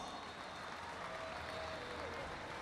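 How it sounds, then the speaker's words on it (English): Crowd applause rises faintly at the opening ceremony of the 64th Palarong Pambansa, a distant, steady wash of clapping with a hint of voices underneath. "Let's give him a big round of applause."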